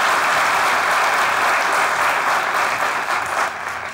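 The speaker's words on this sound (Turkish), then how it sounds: "Bir alkış alabilir miyim bunlara?" Loud, sustained applause from a television comedy show's studio audience, thick continuous clapping that fades slightly toward the end, with no talk over it.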